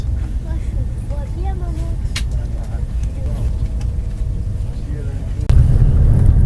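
Inside a Eurostar high-speed train running between Paris and London, a deep, steady rumble fills the cabin and swells louder near the end, while a voice talks over it.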